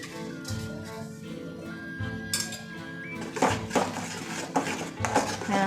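Spoon stirring fresh cream and kasuri methi into an Afghani egg curry in a pan, giving a run of light metallic clinks and scrapes against the vessel, fairly close and unobscured by talk.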